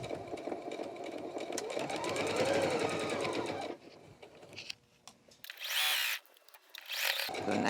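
Sewing machine stitching back and forth through thick layers of pillowcase fabric, a steady whirring run followed by short reversing bursts and pauses as the seam is back tacked, close and clear.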